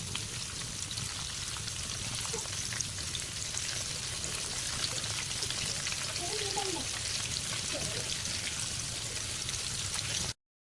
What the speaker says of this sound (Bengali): হালকা আঁচে উল্টে পাল্টে ফিশ ফিঙ্গারগুলো ভেজে নিতে হবে